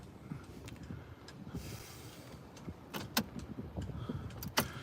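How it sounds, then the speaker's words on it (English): Electric power windows of a car being closed, heard as a soft motor whir inside the cabin during a flood, with brief clicks and clunks near the end under a steady background murmur. "Maybe we will close the windows and take a little bit of a ride."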